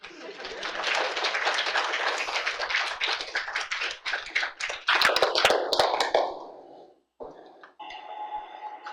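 Audience applause after an MFA public research presentation at an art college, a dense burst of many hands clapping that sustains for about seven seconds, then breaks off abruptly, leaving only scattered faint noises.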